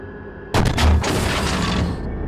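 Challenger 2 tank firing a sabot round at a T-72B3, one abrupt heavy cannon blast followed by a rolling, roaring decay that lingers for over a second before fading into steady background.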